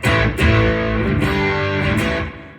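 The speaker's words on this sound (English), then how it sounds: "So I've got that not massively cranked, but somewhat high overdrive there." A loud, heavily overdriven electric guitar at full guitar volume, strummed in thick, saturated chords with several sharp attacks, ringing out densely before fading at the end.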